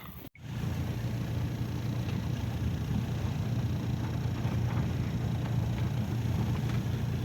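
A VAZ 2109 car rolling slowly along rough field roads, with a steady low engine and road rumble from inside the cabin after a brief click at the start.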